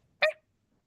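A voice imitates a small dog's yip, one short sharp high bark alone in silence.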